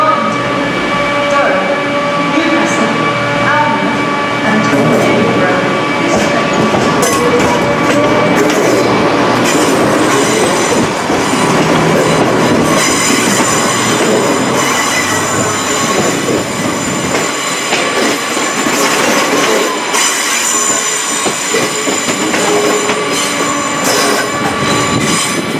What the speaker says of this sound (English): Here comes the 323 with the West Midlands Railway Service to Longbridge.